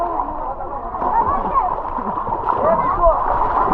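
Swimming in a water park pool churns up steady, close splashing and gurgling water that runs continuously with no pauses, loud and busy throughout.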